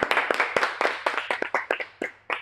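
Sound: clapping applause

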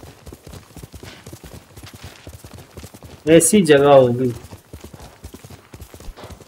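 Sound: horse hooves clip-clop in video game Ghost of Tsushima

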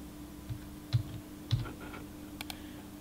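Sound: typing a confirmation code on a computer keyboard

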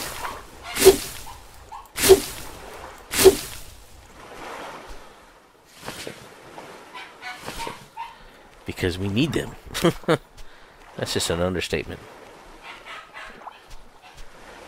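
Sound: streamer's dog barking and whimpering

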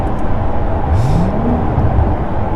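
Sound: Porsche 981 Boxster GTS engine revving in neutral while driving

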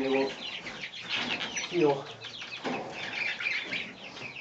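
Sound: chickens clucking

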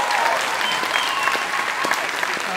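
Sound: stand-up comedy audience applause

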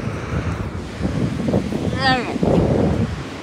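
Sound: wind blowing at the harbor surf

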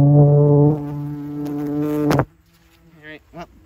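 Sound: ground wasp buzzing

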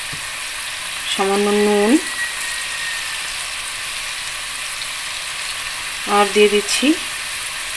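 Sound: potatoes frying in oil for dum aloo

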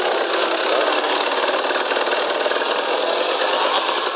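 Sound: KTM EXC 300 motorcycle engine

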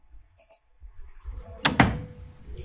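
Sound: door sound effect

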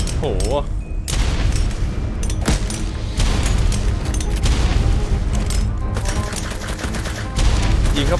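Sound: gunfire in the video game ARK: Scorched Earth

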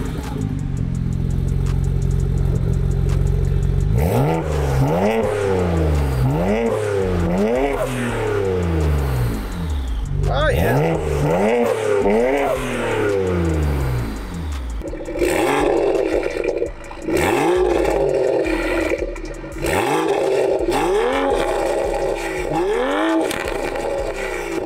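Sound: stock Toyota Supra B58 engine accelerating

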